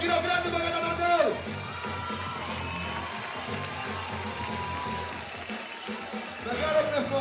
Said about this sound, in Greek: Ένα τεράστιο χειροκρότημα για τον Onel!